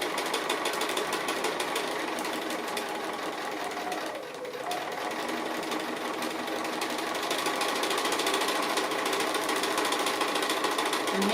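A sewing machine stitches appliqué egg shapes in a steady, fast, close mechanical patter, pausing briefly midway before running on continuously.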